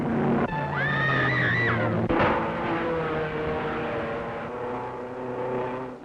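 Roaring engines of 1930s streamlined racing cars with 400 to 500 horsepower, a loud sustained drone with a rising whine early on and a sharp burst near the middle, then a steady rumbling roar.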